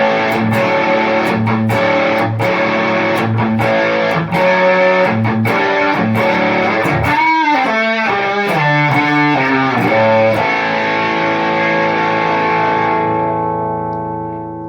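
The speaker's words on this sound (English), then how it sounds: "Really, really good distortion pedal." Electric guitar played through a Donner Dark Mouse distortion pedal, loud and saturated with sustained, heavily driven chords and a few sharp strummed hits, ringing out and slowly fading at the end with no talking.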